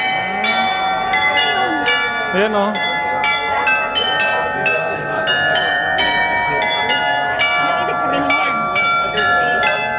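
A church bell in the Rhine Valley of Germany rings in a steady repeated peal, loud and resonant throughout, with brief talk heard beneath it.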